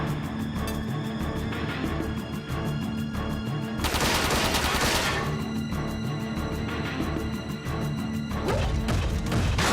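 Enemy mech machine guns firing in Front Mission 4, rapid metallic bursts of automatic fire in a steady stream, with a louder crashing impact volley in the middle of the loud game mix.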